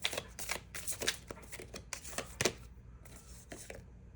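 Tarot-style Moonology oracle cards riffled and shuffled in quick bursts of crisp slapping and flicking, close and fairly quiet, with a short pause before a final few softer shuffles.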